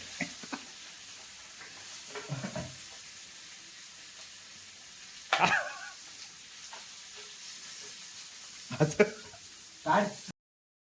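Chicken pieces fry in very hot oil, a faint steady sizzle broken by a few louder crackling bursts and stirring clatters, with people speaking quietly in the background.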